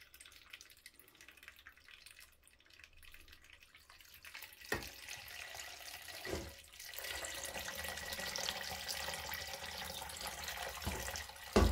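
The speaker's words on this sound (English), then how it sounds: "Obviously, this jug, pour the water out." Water poured out of a jug while ethanol is being separated from petrol, a soft splashing stream that starts faint, grows louder partway through and keeps running steadily, with a few clunks along the way.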